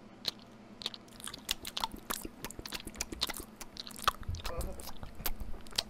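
Saltine crackers are munched close to a microphone in a steady run of crisp crunches and bites, with faint voices in the background.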